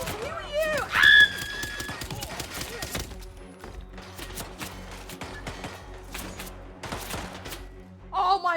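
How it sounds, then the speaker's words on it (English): Gunfire in the horror video game Silent Hill 2, rapid short cracks fired through much of the stretch among game sounds, with a voice crying out near the start. "Stop shooting me!"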